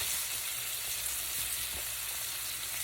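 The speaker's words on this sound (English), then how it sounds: "fry these on each side. So I'm just doing that. And adding, about to burn this, and adding them to my pan." Stuffed meatballs fry in a pan, giving a steady, close hissing sizzle throughout with faint soft bumps underneath and no talking.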